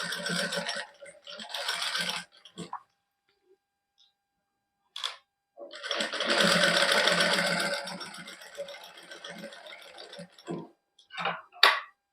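A sewing machine stitches lace onto a plain party-wear suit in bursts: a short run, a pause, then a longer steady whir of the needle, ending in a few quick stops and starts, close and clear.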